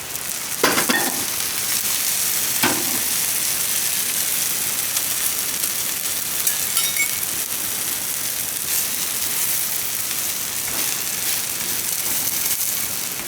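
Bread toast topped with masala fries in oil on a pan, giving a steady close sizzle throughout with a couple of brief louder spatters near the start.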